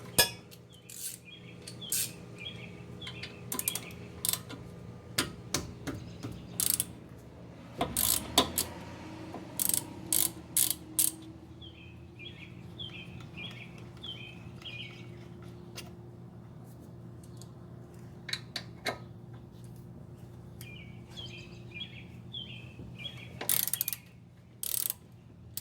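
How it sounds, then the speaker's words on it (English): A 12 mm ratchet works on the brake caliper bolts of a 1999 Jeep XJ, giving short bursts of quick clicking that come and go between pauses, fairly quiet against a low background hum. "here we have a 12 millimeter to take off the brake caliper"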